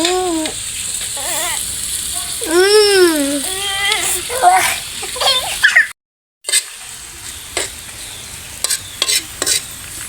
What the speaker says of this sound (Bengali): আচ্ছা, এখন আমি আলুগুলো দিয়ে দেবো। তেলটা কিন্তু গরম হয়ে গেছে।